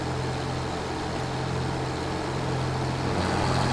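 A steady tractor engine drone in a Farming Simulator 25 video game, with a low, constant hum, idling evenly at moderate volume with no voices.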